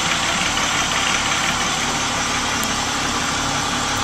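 A school bus engine, revved in reverse gear with the brakes holding, hums in a steady, even drone throughout, close and unbroken by voices.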